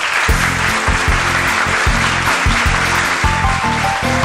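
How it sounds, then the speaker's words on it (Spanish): Studio audience applause on a Spanish-language TV quiz show, a steady loud wash of clapping throughout, with a rhythmic low musical beat pulsing underneath. "Un aplauso para él."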